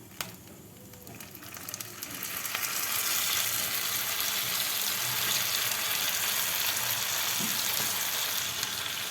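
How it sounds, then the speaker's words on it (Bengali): Tomato paste and ginger fry in a pan for a Bengali katla fish curry, a quiet start that swells into a loud, steady sizzle with occasional stirring scrapes. "এবার এটাকে খুব ভালোভাবে নাড়াচাড়া করে নেব, নাড়াচাড়া করে ভেজে নেব।"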